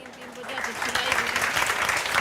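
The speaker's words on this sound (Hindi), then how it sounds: "इसकी तालियां हैं" Applause for a student from a group, building clapping that grows denser and louder, with a voice talking over the beginning.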